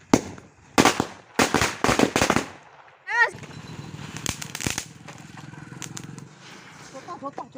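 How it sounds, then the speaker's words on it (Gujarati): Firecrackers bursting after Diwali, a rapid string of sharp, loud cracks at the start, then crackling and fizzing pops under people talking nearby. "આ બધા ફટાકડા ફોડે"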